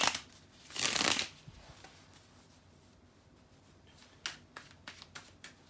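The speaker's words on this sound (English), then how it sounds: "give me a second to shuffle the tarot cards" A deck of tarot cards is shuffled in a quiet room: one full riffle burst, then a series of soft taps and flicks as the cards settle.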